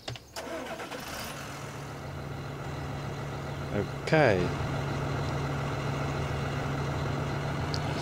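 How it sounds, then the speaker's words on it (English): Tractor engine in Farming Simulator 2013 cranks and catches, then settles into a steady low idle drone that runs throughout, with a brief voice near the start. "So let's just go into the tractor, start engine."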